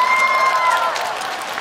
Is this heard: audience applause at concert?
yes